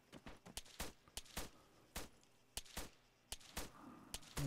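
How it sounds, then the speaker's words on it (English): Distant gunfire in the Arma 3 military game crackles in irregular bursts of sharp cracks, some single shots and some quick clusters, over a faint outdoor background. "Gunfire, it sounds like it's coming from the east."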